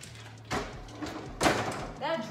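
A kitchen drawer is pulled open, heard as two close, brisk sliding rattles about a second apart. A short voice follows at the end.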